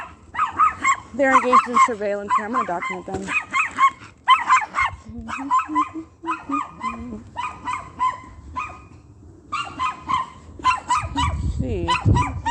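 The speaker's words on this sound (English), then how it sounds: "this little annoying dog that's barking" A small dog barks repeatedly in sharp bursts near a property on a residential street, the yaps mixed with someone talking close by.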